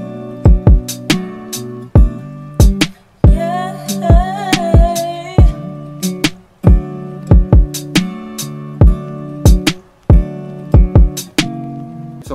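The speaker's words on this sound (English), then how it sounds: "The kick, hi-hat, and snare sounds like this." Lo-fi beat drums programmed in FL Studio, kick, hi-hat and snare in a steady slow groove over a soft melodic keys layer, with a brief rising flourish midway, prominent and alone.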